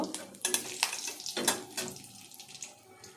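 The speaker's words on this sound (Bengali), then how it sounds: "ফোড়নের জন্য যে শুকনো লঙ্কা রেখেছিলাম সেটা আবার দিয়ে দেব, তেজপাতাটাও দিয়ে দেব" Dried red chillies and a bay leaf dropped into about a spoonful of hot oil for tempering, crackling and spattering in bursts alongside stirring and clinking in a pan, close and moderately loud.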